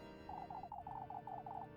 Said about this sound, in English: With these stupid fucking chickens.